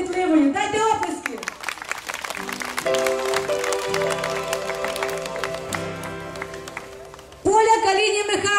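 An audience at a children's village festival gala concert in Bilohorodka in 2009 claps steadily over background music, with a voice speaking at the start and end.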